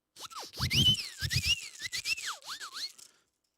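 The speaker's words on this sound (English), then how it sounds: "I've got this little whistle thing here." A small toy whistle plays a sliding, warbling tune of rising and falling pitches for about three seconds, close and alone, with soft breathy and clicking sounds under the notes.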